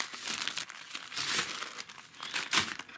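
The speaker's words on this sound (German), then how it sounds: "Gut, es hat schon geraschelt und geknistert." Plastic packaging of an advent sock yarn calendar crinkles and rustles close up in several uneven bursts, with the loudest crunch near the end and no talk.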